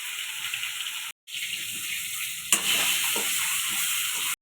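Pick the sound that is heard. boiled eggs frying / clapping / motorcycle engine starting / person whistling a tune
boiled eggs frying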